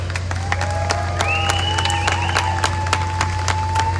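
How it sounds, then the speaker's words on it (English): A crowd at an outdoor anti-war rally in Washington DC applauds for Gabriel, steady clapping and a few cheers over a low hum, with a sustained whistle or tone sliding above it. "Give another round of applause for Gabriel."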